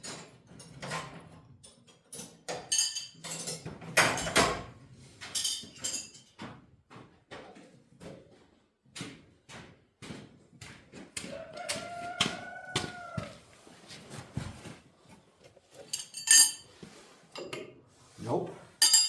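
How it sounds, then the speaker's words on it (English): Metal wrenches clinking and clattering during an oil change on a Ford 8N tractor, scattered sharp close clinks and rattles with someone talking in between. "That's probably like a 3/4 inch wrench."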